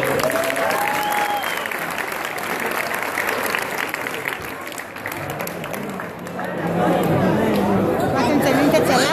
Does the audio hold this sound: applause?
yes